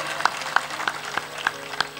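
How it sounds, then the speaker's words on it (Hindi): Audience clapping during a spiritual discourse, heard as sharp, separate claps spaced evenly, roughly three per second, fairly faint against a quiet room background. "जोर से ताली बजाया करो"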